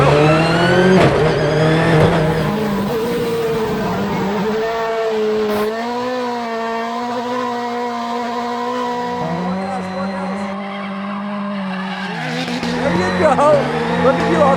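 Travis Pastrana's 862bhp Subaru Huckster drifting in gymkhana, its engine revving loud and close, pitch climbing and dropping over squealing tires across the whole stretch.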